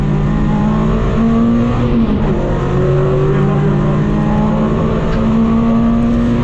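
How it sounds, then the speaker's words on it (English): A Renault Clio race car engine drones steadily on a track at Navarra Circuit, loud and continuous, with its raw pitch shifting slightly as it holds speed. "I love the sound of this car. It's a little Clio, it sounds absolutely awesome."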